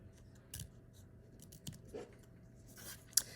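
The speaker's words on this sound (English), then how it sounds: "I'm going to finish cutting him out." Scissors cut a paper drawing out of a sheet with a few faint, irregular snips and rustles close by, quiet and without talk.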